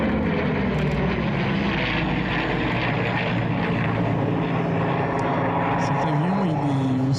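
A P-38 Lightning with two Allison engines flies in an airshow demo, its propeller engines giving a loud, continuous droning roar that shifts in pitch near the end as it passes.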